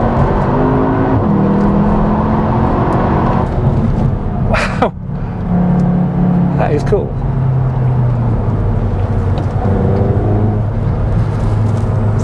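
Cupra Leon 300 engine and exhaust rev loudly and steadily, with a couple of sharp pop-like bursts mid-way, while people talk over it throughout.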